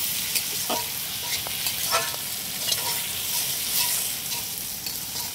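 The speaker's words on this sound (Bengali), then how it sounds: "এর মধ্যে টমেটো আর কাঁচা লঙ্কাটা দিয়ে দিচ্ছি। এইটাকেও হালকা করে ফ্রাই করে নেবো" Tomato and green chilli fry with desi red rooster chicken in a pan, a constant close sizzle with scraping stirs and small pops throughout.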